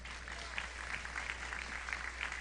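During a Sunday celebration worship service, the congregation applauds to the Lord, a fairly faint but steady wash of many hands clapping over a low hum.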